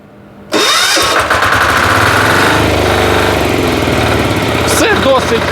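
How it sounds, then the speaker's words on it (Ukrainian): A small walk-behind tractor engine with electric start starts abruptly and then runs steadily and loudly, a close, throbbing chug that continues without letup. "Чутно потужний, потужну роботу двигуна."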